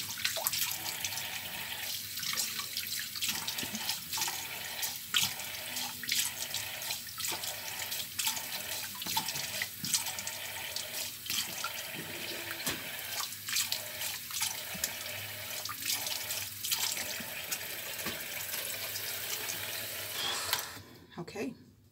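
Water running from a tap into a sink while a coffee facial scrub is rinsed off, a steady faucet flow with splashes and drips, while someone talks quietly over it.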